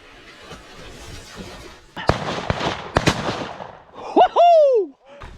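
Several sharp shotgun blasts in quick succession ring out during a waterfowl hunt, loud and close, followed by excited whooping shouts.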